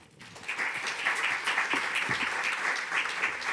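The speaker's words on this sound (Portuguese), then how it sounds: "um aplauso para ela" At an award presentation, an audience breaks into applause that builds quickly and then holds as a dense, even clatter of many hands, fairly close and with no talking over it.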